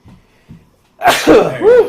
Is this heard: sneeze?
yes